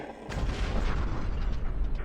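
A crude explosion effect in the puzzle adventure game Obduction, a sudden loud blast that stays as a sustained rumbling roar for a couple of seconds.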